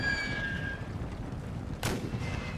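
Gunfire in the World War I shooter The Great War, a sharp loud shot bursting out near the end over a dense, rumbling battlefield background with faint tonal whines earlier.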